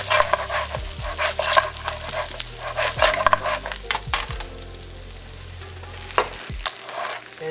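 Shrimp and crab fry in butter with a loud, close sizzle, busy stirring and utensil scrapes against the pan, and the crackle tapering near the end; nobody speaks.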